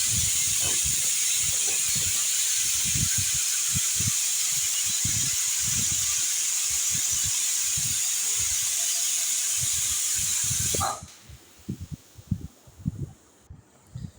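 Steam hisses loudly and steadily out of a pressure cooker after its whistle is lifted while rice cooks for egg biryani, then cuts off abruptly, leaving faint kitchen knocks and clatter.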